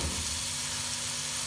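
Onion frying together with garlic-ginger paste for a chicken tikka karahi, a steady close sizzle and crackle of oil alone with no talking.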